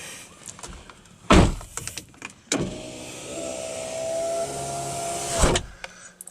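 The electric folding hardtop of a 2013 BMW Z4 35is M Sport closing, heard close up: a couple of clunks, then a steady motor whine lasting about three seconds, ending in a solid latch thud.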